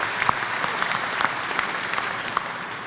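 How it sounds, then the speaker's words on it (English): Steady audience applause at a 2015 college commencement ceremony, a dense wash of many hands clapping with a few sharper claps standing out, moderately loud and without speech. "Again, deserves a round of applause."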